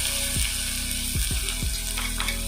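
Ground masala paste dropped into hot oil with spluttered mustard seeds and asafoetida, frying with a steady broad sizzle and a few sharp low clunks and scrapes from a spoon or vessel.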